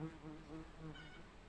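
Honey bees buzz at close range at an opened hive in a soft, steady drone, with a faint hum wavering slightly in pitch.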